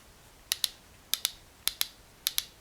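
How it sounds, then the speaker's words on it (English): An old hand brace's ratchet clicks in crisp paired ticks, four quick double-clicks spaced evenly, close and clear over a quiet background. "The ratcheting works just fine."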